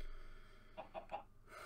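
Chickens clucking: three short, quick clucks close by over a quiet background, with no voices.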